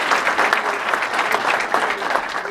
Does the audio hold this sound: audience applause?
yes